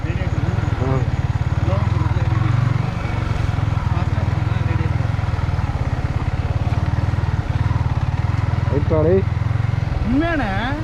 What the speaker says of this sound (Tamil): இன்ஜின் கதற ஆரம்பிச்சிருச்சு